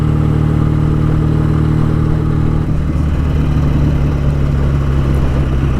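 A BSA A10 Super Rocket motorcycle being ridden at a relaxed cruise, its engine a loud, continuous, steady drone close by, with a slight change in tone midway and no voices.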